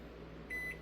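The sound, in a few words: microwave oven running on high heating water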